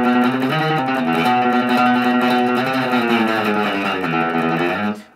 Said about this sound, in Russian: вы медленно скользите пальцем вниз по грифу, продолжая играть тремоло вашей правой рукой.